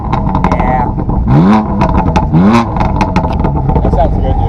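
BMW M4 with an aftermarket exhaust revving twice, each rev sweeping up and falling back in a loud close blip, with people talking over and between the revs.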